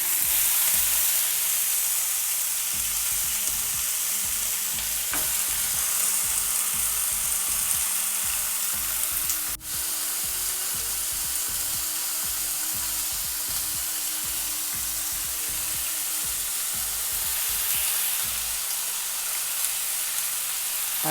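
Mutton frying in a pan with green chillies, a steady loud sizzle and hiss with a faint stirring rhythm underneath, continuous and close throughout.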